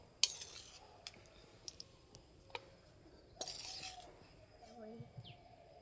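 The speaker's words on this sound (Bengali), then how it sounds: "এবার একটা প্লেটে তুলে নেব।" Sesame pitha lifted onto a plate, heard as a series of sharp, close metal-on-plate clinks and taps scattered over a few seconds, quiet in between.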